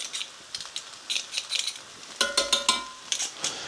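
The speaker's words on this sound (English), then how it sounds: "I've been stirring it quite often because it's got a tendency to catch" A spoon scrapes and clinks around a pan of garlic and tomato sauce for meatballs alla Norma, a run of quick rhythmic knocks and scrapes with a faint simmer underneath.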